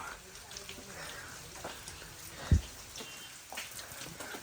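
Rain falls at a cave site near Nainital, Uttarakhand, as a soft, steady patter with scattered drops and one sharp knock, and a voice speaks quietly at times.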